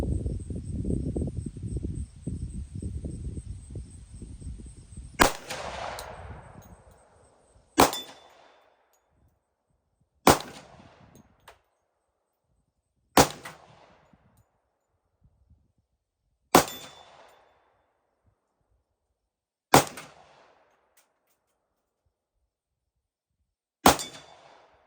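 Seven sharp, loud gunshots from a Glock 20 Gen 5 MOS 10mm pistol firing handloaded rounds, each a crisp crack spaced a few seconds apart with short ringing decay, following a stretch of low rumbling background.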